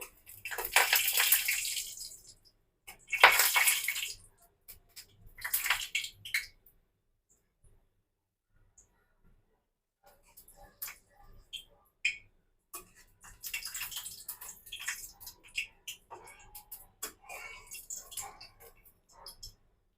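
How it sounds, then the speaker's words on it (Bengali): Five dried red chilies frying lightly in hot oil, giving loud hissing sizzle bursts at first, then a pause and a quieter, patchy crackle with scattered pops. "তেলটা গরম হয়ে গেছে এবার দিয়ে দিব আমি পাঁচটা শুকনা মরিচ হালকা ভাজতে হবে"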